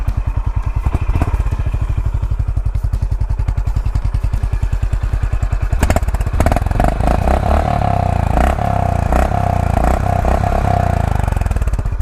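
A Honda CB 350 RS single-cylinder motorcycle idles with a close, loud, evenly thumping exhaust beat, then is revved around six seconds, its note rising into a deeper, uneven throb with repeated blips.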